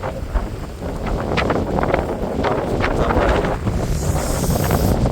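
A strong storm wind blows at night during a sudden power cut on the Narmada Parikrama pilgrimage route. It gives a continuous, roaring rush that buffets the microphone and swells slightly, loud and close, with no talk.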